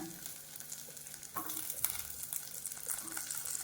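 Shallots sizzling steadily in hot oil for a chicken sodhi, a continuous bright frying hiss with occasional stirring clinks and small pops, fairly close and without talk.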